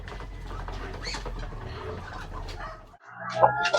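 Muscovy ducklings make soft peeping and cheeping calls close by beside their mother duck, with a low rumbling background and a sharper burst of chirps near the end.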